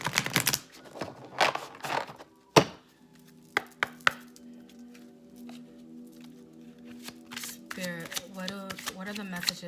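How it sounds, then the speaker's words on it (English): Cards are riffled and shuffled in a few quick bursts near the start, followed by scattered soft taps and a low hum, with a voice speaking briefly at the end. "I'm going to get one more shuffle."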